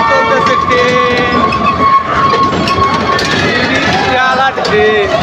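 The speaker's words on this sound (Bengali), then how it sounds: "ট্রেন চলতেছে ট্রেন" A toy train runs with a loud, continuous mechanical rumble and whirring tones throughout, while voices sound faintly in the background.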